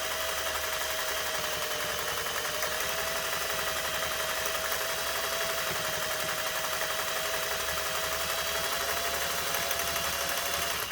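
A Singer 401A sewing machine runs steadily through a tiny zigzag stitch, its motor whirring and needle clattering in a fast even rhythm, continuous and close with no talking.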